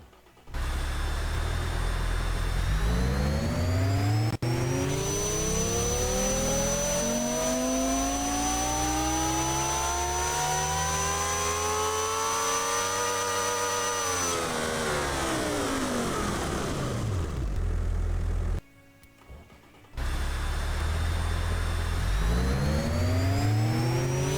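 A supercharged engine in a car-building video game revs on a dyno, climbing steadily through the gears to a high roaring whine, then drops off, pauses briefly in near silence, and starts climbing again.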